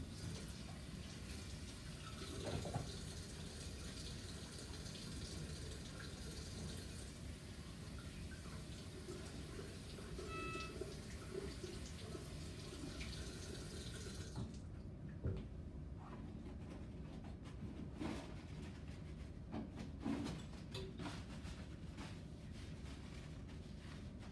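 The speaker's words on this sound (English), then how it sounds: "So I'm gonna go ahead and wash my hand." A bathroom or clinic sink tap runs steadily as hands are washed before a physical exam, a faint continuous hiss of water that cuts off partway through, followed by quiet handling noises.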